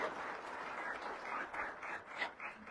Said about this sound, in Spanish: bienvenida Ami, bienvenida Paula, les pido un fuertísimo aplauso para dos campeonas que tenemos aquí en la provincia.